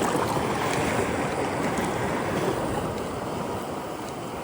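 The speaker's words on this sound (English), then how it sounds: "The waves have gotten a lot stronger, so we might have to switch to the shore soon." Ocean waves rolling onto the beach at St. George Island, a continuous loud wash of surf mixed with wind noise on the microphone and no voices.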